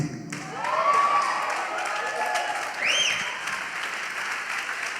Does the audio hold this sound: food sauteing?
no